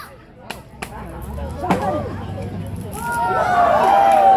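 A coconut being chopped open in front of a cheering crowd, a few sharp chopping strikes followed by rising voices and whoops as the crowd reacts.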